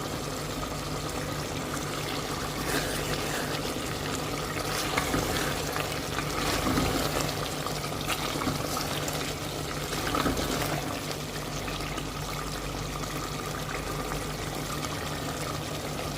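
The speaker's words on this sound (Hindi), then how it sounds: "अब इसमें जाएगा पानी, 1/2 कप पानी ऐड करेंगे" Half a cup of water is poured into a Dhaba-style white mutton stew that has been browned in oil with green coriander, giving a close, continuous sizzling hiss that lasts throughout.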